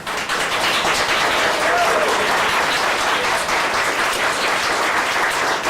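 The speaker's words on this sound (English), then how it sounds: "The thunderous applause." A city council chamber audience bursts into loud, continuous applause after a motion passes, a dense, even roar of clapping that holds steady for several seconds with faint voices underneath.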